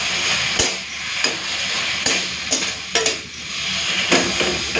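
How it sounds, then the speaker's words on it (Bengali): Taro leaves (kochu shak) with ground cumin and dried chilli being stirred in a pan, the spatula scraping and clinking against metal in irregular strokes over a steady frying hiss. "মিশিয়ে নিই, নামিয়ে ফেলবো।"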